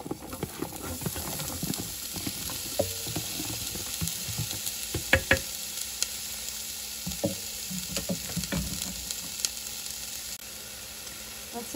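Chopped onion sizzles in a soup pot of beef barley vegetable soup, a close crackling hiss broken by clacks and knocks of stirring against the pot, then quieting slightly toward the end.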